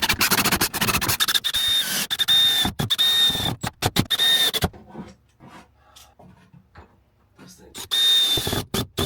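A power drill drives screws into a cabinet aboard a steel trawler under restoration, in loud whirring bursts that stop and start, with a quiet pause in the middle before the drill resumes.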